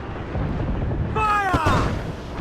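Ship cannons boom in Assassin's Creed IV: Black Flag, a heavy blast rising out of rumbling battle noise amid shouted voices.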